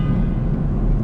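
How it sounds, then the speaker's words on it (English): A Ford F350 pickup's stock horn sounds one steady, loud, low blast lasting about a second, with no other sounds. "Here's my regular horn."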